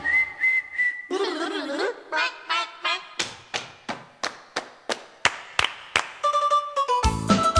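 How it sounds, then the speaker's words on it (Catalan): A person whistles a series of short tunes and single notes, some sustained and some sharply tapped, repeated steadily and close to the microphone. "Ara jugarem xiulant, ara jugarem xiulant."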